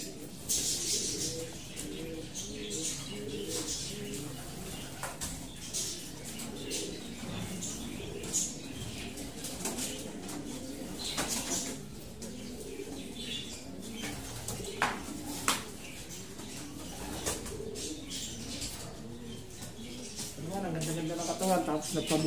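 Racing pigeons coo softly and continuously throughout, with bursts of wing flapping and rustling, heard close up under someone talking.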